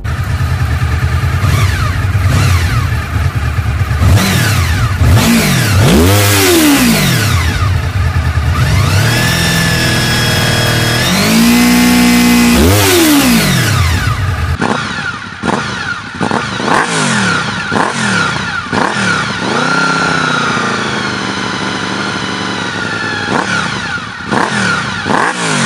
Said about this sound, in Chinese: 谢谢大家听一下这个 V4 直列四缸声浪。